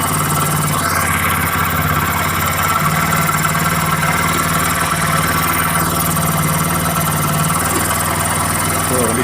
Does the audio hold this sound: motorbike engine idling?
yes